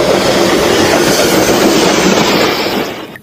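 A continuous rumbling rattle from a toy train, like a train rolling along, loud and steady, fading out at the very end.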